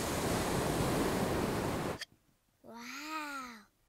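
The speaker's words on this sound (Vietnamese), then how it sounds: "Con có thể nghe thấy tiếng biển rồi bà." A cartoon seashell held to the ear gives a steady, loud broadband ocean-surf hiss for about two seconds, cut off abruptly, followed by a short pause and then a rising-and-falling cartoon meow-like voice.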